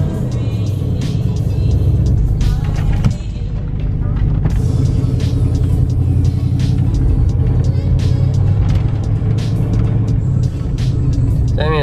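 A Ford Bronco pre runner engine drones steadily at low speed, a continuous close rumble from start to finish with a brief dip near the three-second mark.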